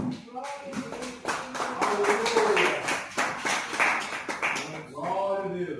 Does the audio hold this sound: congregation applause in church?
yes